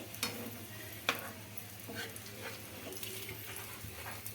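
Wheat flour snack frying over a medium flame in a pan, with a steady low sizzle and occasional stirring scrapes and clicks, fairly close and without talk.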